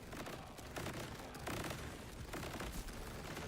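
Video game gunshots crackle in a steady, dense stream of rapid fire, loud and close throughout.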